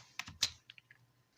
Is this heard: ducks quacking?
no